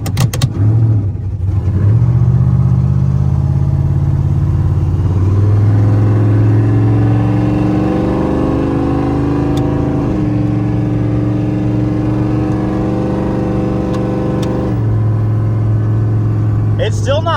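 A Cadillac with a loud custom-built exhaust drives on an off-road course, a deep, steady rumbling drone that holds through the clip with a few shifts in pitch as it accelerates.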